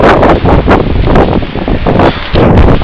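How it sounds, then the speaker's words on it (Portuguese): Strong gusty wind blows loudly across a microphone outdoors, with surging rushes and rustling between brief lulls, and no voices. "barulho da revolta do vento"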